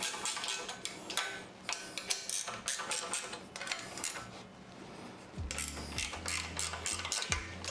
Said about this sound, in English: So let's just loosen up those bolts one more